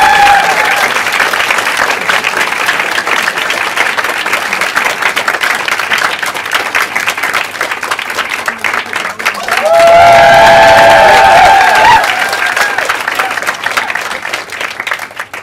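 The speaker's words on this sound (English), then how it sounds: "give a warm round of applause for a wonderful guy, Chidi." A live audience at a comedy or storytelling show claps and cheers, loud sustained applause that runs the whole time and swells near the end with a few whistles.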